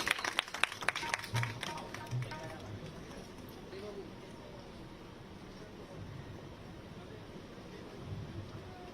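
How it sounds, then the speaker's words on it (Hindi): An audience at a music students' event claps for a member of parliament, a brief burst of applause that fades quickly into a low murmur of voices and room noise. "तो एक बार जोरदार तालियां हो जाए सर के लिए"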